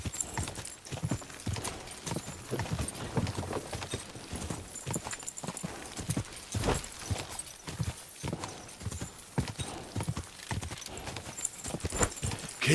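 Horse hooves clip-clopping in a steady walking rhythm in the medieval game Kingdom Come: Deliverance II, continuous and fairly close, with faint ambient sound beneath.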